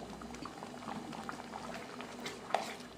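Tomato ketchup thickened with cornflour bubbling and boiling in a pot while being stirred, a quiet continuous thick-liquid burble with small pops close by.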